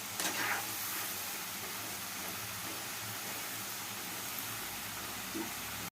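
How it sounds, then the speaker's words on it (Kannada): Potato french fries deep frying in oil give a steady, faint hiss and sizzle that stays even throughout, close by and with no talk over it. "ಚೆನ್ನಾಗಿ ಫ್ರೈ ಮಾಡಬೇಕು. ಕ್ರಿಸ್ಪಿಯಾಗಿ ಬರುತ್ತೆ ಅದು."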